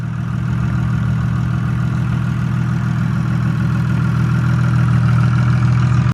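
A freshly built Toyota Supra engine idles steadily while warming up during break-in, a loud, close, continuous low rumble with an even pulsing rhythm and a slight rise in pitch toward the end, with no voices.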